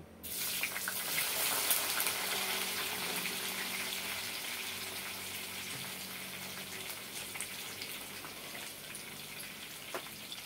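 Eggplant sizzling and frying in hot oil, a dense bright crackle that starts loud when the pieces go in and continues steadily, easing slightly over time, with no talking.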